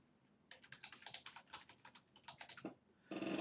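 Rapid keystrokes clatter on a computer keyboard in a quick, uneven burst, ending with a heavier key press before a louder noise takes over.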